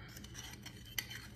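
A utensil stirs honey into a mixture in a bowl, giving soft scraping and light clinks with one sharper tap, close and quiet, with no talking.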